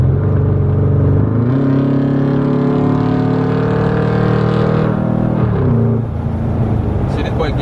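A Dodge Charger SRT8 accelerating on a highway in the fast lane, its engine note climbing in steady harmonics, dropping briefly at a gear change and then climbing again, loud and close from inside the car.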